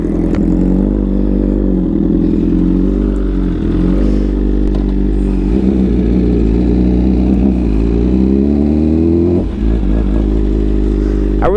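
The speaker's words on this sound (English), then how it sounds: "let's go ahead and jump on the bike. See what it feels like with the stage 2 tuning BT Moto." A 2024 BMW M1000RR sportbike with a stage 2 tune ridden up close, its engine droning loud and steady with shifting pitch as revs rise and fall, plus wind and mechanical clatter.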